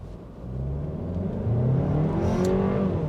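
A 2024 Volkswagen Tiguan SEL R-Line accelerates at full throttle, its engine note rising steadily in pitch and growing louder as it pulls hard, with no talking.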